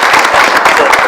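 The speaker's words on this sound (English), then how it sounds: "Let's give K-9 Gunther and Sergeant O'Brien a big round of applause." A council chamber audience applauds a retiring police K-9, Gunther, and his handler, Sergeant O'Brien, in dense, steady clapping that fills the short moment at full loudness without a break.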